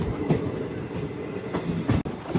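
Narasapur to Arunachalam weekly special train 07219 on its inaugural run rolls along near Palakollu, with a steady close rumble and rhythmic clatter of wheels over rail joints.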